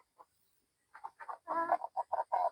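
Chickens cluck in short, close bursts that quicken into a rapid run of clucks in otherwise quiet surroundings.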